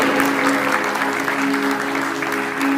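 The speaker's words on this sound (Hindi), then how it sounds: "तालियां कैसी बजनी चाहिए? बजती रहनी चाहिए।" Continuous audience applause at a stage drama performance during a Mahavir Jayanti celebration, a steady dense patter of clapping from a crowd throughout.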